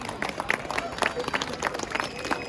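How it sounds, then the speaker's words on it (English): Crowd at a Barclays boycott protest in Cardiff clapping and cheering outdoors, a steady scatter of claps with voices mixed in, moderately loud throughout. "So a round of applause for you all, man."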